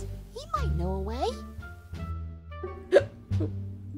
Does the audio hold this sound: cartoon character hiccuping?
yes